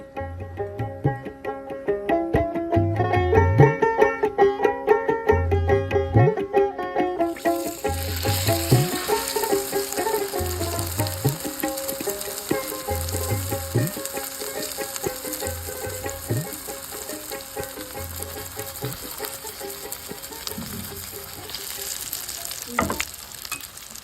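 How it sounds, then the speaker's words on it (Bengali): Egg-coated roti frying in hot oil in a pan, a steady loud sizzle and crackle throughout, with a brief burst of music at the start and louder spitting as it fries on, no talk. "চলুন আরো একটি ভেজে নেই এটাও ভেজে নেবো"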